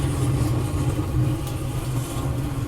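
Waste oil burner furnace running, a steady, close, roaring rumble with low throb, no talk.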